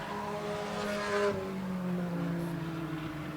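Stock cars racing at an enduro event on an oval track, engines droning and shifting in pitch as cars pass at a distance, a steady layered roar with no talking.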